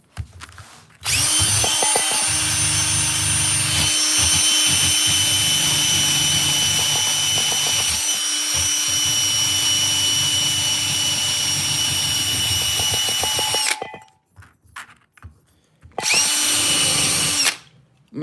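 A power tool spinning a rotary wheel against a rusty metal emblem badge whines loudly and steadily for about twelve seconds, stops, then starts again for a short final burst.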